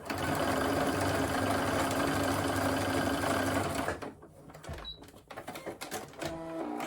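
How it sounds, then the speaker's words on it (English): A sewing machine stitching across the ends of a crossbody bag strap, a loud steady mechanical whir for about four seconds, then stopping, followed by quieter handling clicks and small knocks. "and then I'm just going to sew across"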